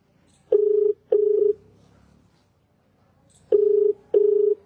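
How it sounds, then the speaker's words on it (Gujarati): Ringback tone of an outgoing phone call, two pairs of steady electronic ring bursts separated by a pause, loud and close with no voices. "કારણ કે 4થી રિંગ ગઈ છે."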